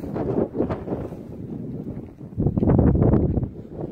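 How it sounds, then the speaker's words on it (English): Wind blows outdoors, buffeting the microphone with a continuous rough rumble that swells and gusts louder toward the end. "it's almost like the wind's pushing me this way now"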